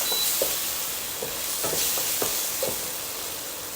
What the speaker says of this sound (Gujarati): ટમેટાને પણ ખાલી એને જરાક માટે સાંતરી લેવાનું છે